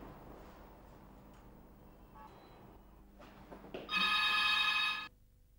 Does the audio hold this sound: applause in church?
no